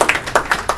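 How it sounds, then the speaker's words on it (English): Brief applause for a judge at a community council meeting, a short burst of a few rhythmic hand claps, close and fairly loud, with no talk over it. "Let's give him a round of applause."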